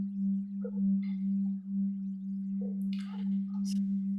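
A synthesizer holds a pure, steady sine-wave tone throughout, soft and sustained at an even level, with faint higher chirps and flutters layered over it near the end.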